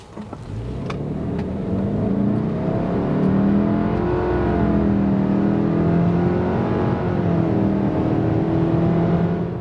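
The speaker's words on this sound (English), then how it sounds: "Let's go full throttle off the line this time and see what happens." A 2024 Subaru Ascent SUV with a CVT revs hard from a standstill and climbs steadily in pitch under full throttle, loud and close, with the drone holding strong throughout.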